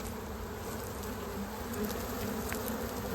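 A steady, dense buzzing of many honeybees swarming close by at a hive, a swarm arriving at a bait hive, continuous and even throughout.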